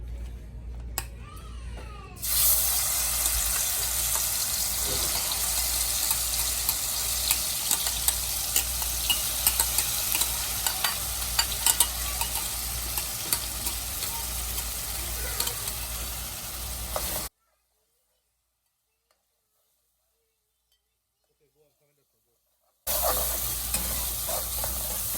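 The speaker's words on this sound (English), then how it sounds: "the oil is hot. I'll just throw the curry paste inside now." Curry paste fries in hot oil for a Guyanese duck curry, a loud, dense sizzle that starts abruptly and runs steadily with frequent small spoon clicks and scrapes, then cuts to silence before briefly resuming.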